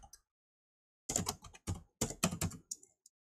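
Computer keyboard typing while writing web form code, heard as short bursts of clustered keystrokes with brief pauses between them, fairly close and alone.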